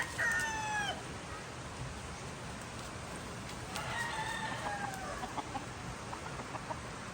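A rooster crows near the start and again midway, while a flock of about 54 chickens clucks softly in the background of an outdoor farmyard.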